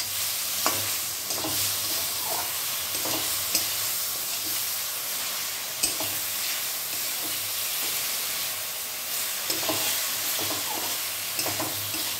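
Soaked tamarind fries and is stirred in a pan for a pointed gourd (potol) dish, giving a steady close sizzle with a spoon scraping and clinking now and then.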